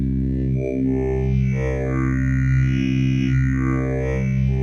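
A wavetable synthesizer oscillator drones on a low, buzzy pitch while its timbre slowly morphs between waveforms, the tone sweeping and shimmering in a steady, close, continuous sound with no talk.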